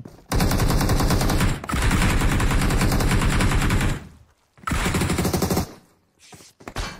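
Long automatic gunfire bursts in PUBG Mobile, loud and close, with steady rapid-fire rhythm in two extended strings separated by a brief pause, then a short final burst.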